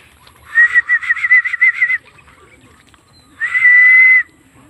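Racing pigeons arriving at their loft: bird calls ring out close by, first a rapid run of trilled whistles, then after a short pause one long steady whistle. No one speaks.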